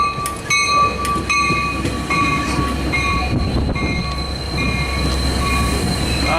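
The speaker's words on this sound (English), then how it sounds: "Here's our train." A Sound Transit Sounder commuter train, train 1513 bound for King Street Station in Seattle, rolls into a station loud and close, with steady rumble, metallic ringing tones and squealing wheels throughout.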